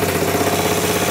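A 650cc shifter kart engine idles steadily after starting up, a continuous mid-low mechanical drone with rhythmic pulsing and vibration, loud and close, with no voices.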